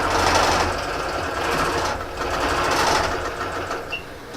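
A longarm quilting machine stitches a Prairie Blossoms quilt mounted on the frame, giving a steady, fast mechanical whir and chatter that runs loud and continuous throughout, with no talking.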